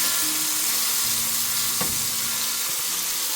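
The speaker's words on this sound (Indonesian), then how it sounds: "Kemudian kita tumis, apinya kecil saja ya" A simple spice paste stir-fried in a pan over a low flame, giving a steady close sizzle with a brief utensil scrape around the middle and no talking.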